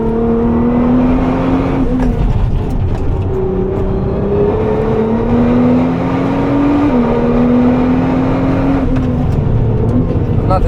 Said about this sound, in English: you probably want to hear the V6 roar